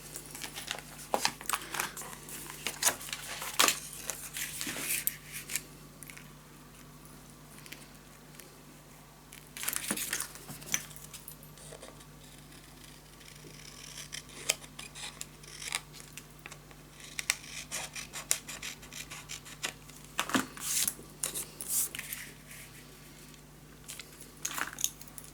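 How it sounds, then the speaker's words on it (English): Scissors snip through paper while pieces are cut out for a scrapbook mini album: intermittent crisp cuts and rustles spread across the stretch over a low, steady background hum. "Just gonna keep cutting what we don't need."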